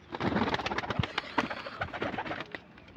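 Pigeons kept by a pigeon fancier coo and rustle in a soft, busy cluster, with scattered wing flutters and small knocks, fairly faint and close, with no talking.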